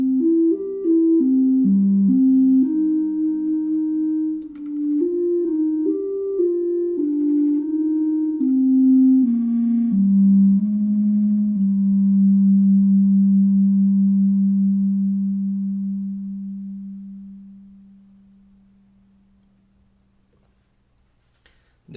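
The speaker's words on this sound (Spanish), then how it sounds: "El timbre principal es O, de ondas. En términos técnicos es similar a una onda sinusoidal, es decir, es una onda pura que tiene muy pocos armónicos." Ondes Martenot in its ondes timbre, a pure, near-sine tone with few harmonics, plays a slow legato melody up close, then holds a long final note that gradually fades away.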